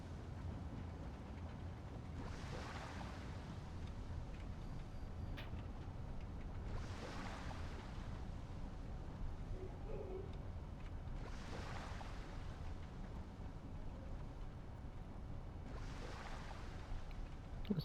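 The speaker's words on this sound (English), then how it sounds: "It's really nice water effects." Water effects in a flight simulator game with an aircraft on the water: a faint, steady low rumble with soft wash-like swells every few seconds, no voices.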